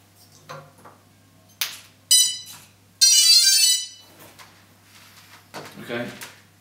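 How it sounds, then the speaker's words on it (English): A FatShark head tracker pairing with an MX-16 transmitter gives a series of short electronic beeps and tones at irregular intervals, one longer tonal burst among them, with faint background noise between. "I put mine on 6 and 8, and that's when you have 6 beeps."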